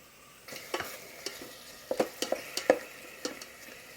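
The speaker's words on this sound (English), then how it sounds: "I'm just trying to brown it a little bit, just to get a little more flavor." Pork tenderloin browning in a pot with seasonings, a soft sizzle broken by a series of sharp scraping and stirring knocks from a utensil against the pot, close and clear with no talking.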